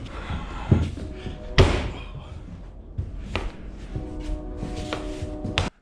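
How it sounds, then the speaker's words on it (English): Roof clips are pushed down and locked into place on a Polaris Ranger UTV, giving a few sharp plastic-and-metal thuds and clacks, two of them louder, spaced across a few seconds with some handling noise between them. "you can take these two clips that are in the rear here and push it down to lock those into place"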